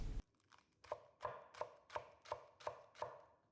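A knife thinly slicing bunched spring onions on a board, about eight crisp, evenly spaced chops close up against a quiet background.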